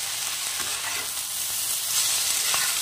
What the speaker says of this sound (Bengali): আর দেব টমেটো সস। দিয়ে নেড়ে চেড়ে 2 মিনিট মতো একটু ভেজে নেব।